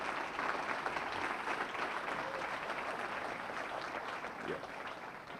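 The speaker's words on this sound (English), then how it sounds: "I want you to give a big round of applause for Vernon Moore, the President's Award." Sustained audience applause at a West Volusia NAACP awards ceremony, a steady dense wash of clapping filling the room for the whole stretch with no break.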